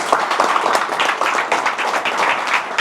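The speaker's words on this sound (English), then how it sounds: "Round of applause," A room full of people breaks into a steady round of applause, dense and close, sustained for a few seconds without anyone speaking.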